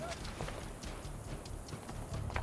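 Horse hooves clip-clop in steady rhythm through Assassin's Creed: Brotherhood gameplay, the clopping fairly close and layered over low game ambience.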